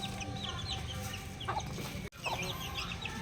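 Mother hens clucking in a backyard mini ranch area, a steady close run of soft clucks and chatter from several birds with no talk.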